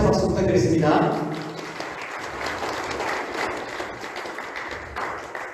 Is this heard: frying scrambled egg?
no